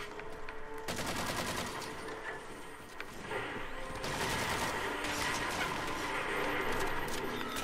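Rapid gunfire from the video game Halo 4, including friendly fire at a window, sounds as dense, continuous bursts that intensify partway through and keep going under a busy game soundscape.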